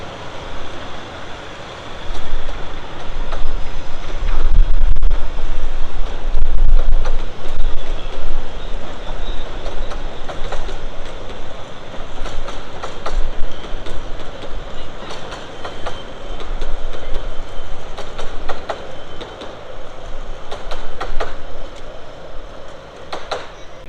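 Locomotive on loan from the Ravenglass Railway running on the Romney, Hythe & Dymchurch Railway, loud rolling rumble and rhythmic wheel clatter passing close by, swelling then easing slightly and continuing steadily.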